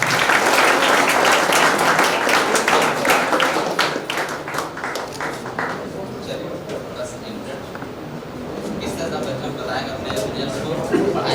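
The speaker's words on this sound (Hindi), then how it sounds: "आप लोग तालियां बजाते रहे।" Audience applause at a Teachers' Day honour ceremony: strong, rapid clapping for the first few seconds that thins out and fades, with chatter and background voices underneath.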